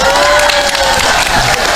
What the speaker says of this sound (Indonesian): Lu ngapa tepuk tangan kok?